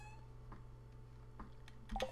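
A cat meows in the Stardew Valley video game, a few short, soft mews over a steady background hum, faint and without talk.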